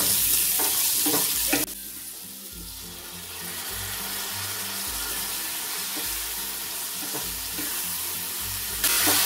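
Ground spices, turmeric, ginger and cumin paste with peas frying and being stirred in a pan, a loud continuous sizzle with scraping stir strokes and occasional knocks, close up.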